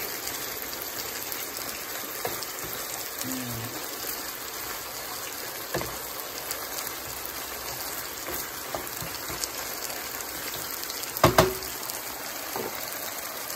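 A steady rush of water pouring continuously, a broad even gush with a few small knocks and clinks scattered through it.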